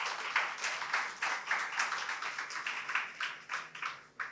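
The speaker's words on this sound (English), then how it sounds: "So I would like you all to give a big hand of applause." Audience at a programming innovation session claps in a modest round of applause, with individual claps distinct and fairly rhythmic, fading slightly toward the end.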